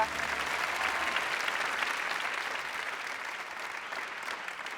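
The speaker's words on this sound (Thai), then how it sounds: "ขอเสียงปรบมือ" Studio audience on a Thai television code-breaking game show breaks into applause, a dense, even wash of clapping that starts loud and eases slightly as it continues.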